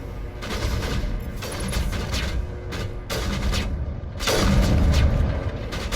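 Sustained bursts of gunfire from Mass Effect 1, dense and loud throughout with heavier booming shots near the end, no talk over it.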